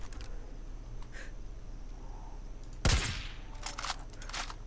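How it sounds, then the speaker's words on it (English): A single loud sniper rifle shot in Far Cry 5 cracks out partway through, sharp and close, over a quiet background hum with faint sounds before and after it. "I'm gonna get up my big sniper."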